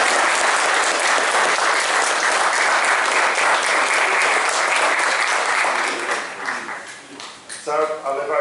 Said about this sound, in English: I think they deserve a big round of applause